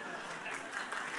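Audience applause during a health insurance conference session, a brief, steady wash of clapping filling the room without pause.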